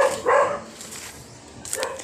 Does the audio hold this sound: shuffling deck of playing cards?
no